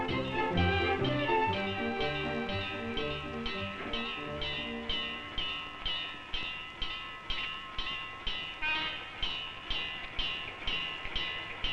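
A train runs between Tokyo and Nikko in 1960s Japan, its wheels clattering in a steady, regular beat over the rail joints, with sustained tones heard early on.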